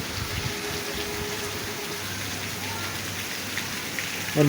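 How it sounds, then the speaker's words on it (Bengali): Heavy rain falls outside, a dense, even hiss of drops pattering on surfaces that holds steady at moderate level throughout, with no voices and a brief louder splash at the very end. "তোমরা মেবি এখান থেকে বৃষ্টির সাউন্ড শুনতে পারতেছো।"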